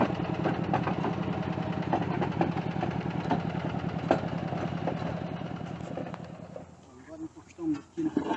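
A Yanmar micro tractor engine idles and chugs steadily nearby while pulling a manure spreader with an auger on a massai grass field, with birdsong in the background and the engine fading and sputtering toward the end.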